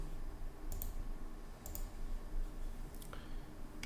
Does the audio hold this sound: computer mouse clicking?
yes